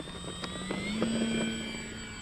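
An FMS Ranger 1800mm electric RC airplane taking off in the morning, its steady motor whine rising in pitch as it speeds up, heard at moderate distance over outdoor ambience with no talking.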